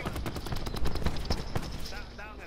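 Rapid automatic gunfire from Call of Duty: Black Ops 4 Blackout, close bursts of shots in quick succession with players' voices over the shooting.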